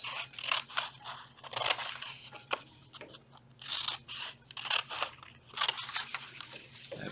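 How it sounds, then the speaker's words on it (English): Scissors snip through two stacked sheets of paper in a run of crisp, close crunching cuts, each a short bright burst separated by brief pauses, with no talk. "So I'm cutting through two pieces of paper right now, not just the one, but both."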